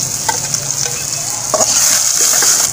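Finely chopped onions sizzling in hot oil in a pan while beef brain masala is cooked, a steady close frying hiss broken by a few stirring scrapes.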